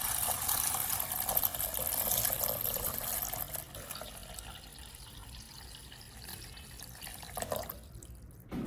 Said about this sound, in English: the beans are washed with plenty of water and gently rubbed by hand